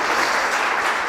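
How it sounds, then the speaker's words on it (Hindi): A church congregation claps steadily to welcome a reverend during a Holy Wednesday service, a dense, even wash of applause with no talk over it. "आप ताली बजाकर उनका स्वागत किए"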